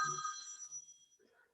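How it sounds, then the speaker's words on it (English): A telephone rings once during a museum gallery talk, a short bright electronic trill that quickly fades, faint and slightly distant. "Let me make sure that phone call is gone."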